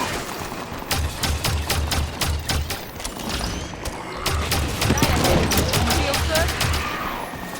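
Rapid bursts of gunfire from a Halo 5 firefight crackle in dense volleys, pausing briefly before resuming louder, with speech and battle noise layered around them.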